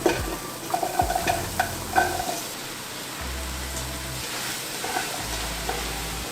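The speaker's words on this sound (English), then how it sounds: "Now we're going to add in our vegetables." Vegetables hit a hot pot for corn chowder and sizzle steadily, with a few clinks and scrapes of a spoon stirring near the start and a low hum underneath, close up and without talking.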